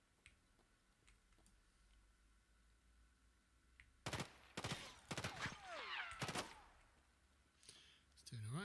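In Escape from Tarkov, a quiet stretch gives way to a cluster of loud, sharp gunshot cracks in quick succession, mixed with voice chatter and a rising whistling tone.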